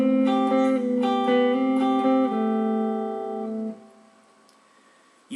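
An electric guitar plays lick A from a song as a quick run of clean picked notes, then holds a final note that rings and fades. Alone, no talking, with a faint click at the very end.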